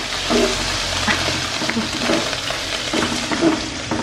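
Pork chop fries in a pan with a steady crackling sizzle, while occasional utensil scrapes and clinks of stirring stand out above it.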